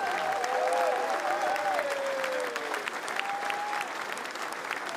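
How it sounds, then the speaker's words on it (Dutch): Audience applause for the carnival season's champions at Maastricht's Knoevelemint in the Gouvernement, a continuous roll of clapping from a sizeable crowd, moderately quiet and even, with some whistles and cheers on top. "Een heel groot applaus alsjeblieft"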